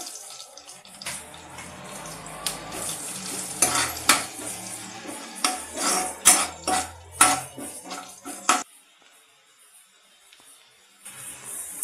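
Curry leaves and green chillies hitting hot oil in a pan for ladies finger palya, a bright crackling sizzle with a series of sharp spattering pops that fades to a quieter hiss near the end.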